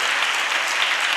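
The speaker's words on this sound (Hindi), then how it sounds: "प्रेज़ लॉर्ड, सब तालियां बजाएं।" A church congregation claps loudly and continuously after a choir's song, a thick even wash of many hands with no talking.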